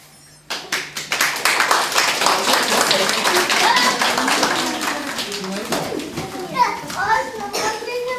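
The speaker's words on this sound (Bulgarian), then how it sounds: "Аплодисменти." A kindergarten audience of children claps in a dense burst that starts suddenly and runs for several seconds, mixed with children's chatter and shouts that carry on as the clapping thins out.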